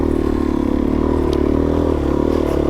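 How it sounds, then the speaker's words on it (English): Suzuki DRZ400S dirt bike ridden over Idaho terrain, its single-cylinder engine droning loudly and steadily from up close, with faint clatter over the top. "I'm riding the mightiest bike I have, the Suzuki"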